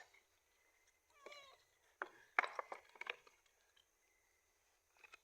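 A pet cat meows several times, short rising and falling calls with a brief pause between them, close and fairly quiet in a calm indoor room.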